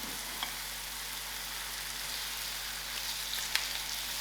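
Tomatoes frying with sprouted methi herbs in a pan, a steady, even sizzle with faint crackles throughout, no talking.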